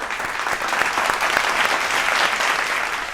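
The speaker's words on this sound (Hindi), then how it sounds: "के हम बिल्कुल उनका जोरदार स्वागत- तालियों के साथ।" Audience applause welcoming a poet at a Hindi poetry gathering, steady and loud dense clapping from a large crowd, sustained evenly throughout with no voices over it.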